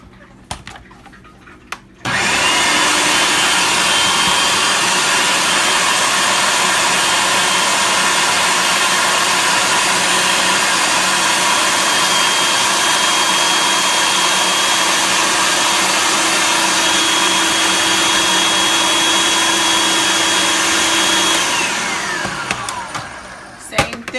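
Loud blender whirls a falafel mixture of chickpeas in one long steady run of about twenty seconds, starting abruptly and winding down at the end, with no talking over it.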